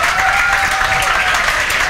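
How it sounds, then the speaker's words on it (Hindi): A crowd of students claps loudly and continuously in a classroom for a short burst, dense and even throughout. "दिव्यांशी अग्रवाल के लिए जोरदार तालियां, ज्यादा तालियां।"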